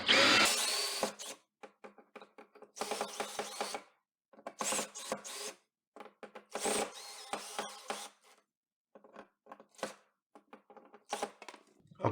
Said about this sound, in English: it's going to be better when I'm actually going to attach it with this drill